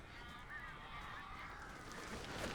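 Birds attack in Alan Wake, heard as faint honking, goose-like calls over a low ambient rumble in a short burst.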